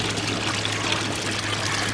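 Water flows from a hospital drain into a wastewater treatment chamber, a steady soft pouring and trickling wash with a constant low hum, faint and brief.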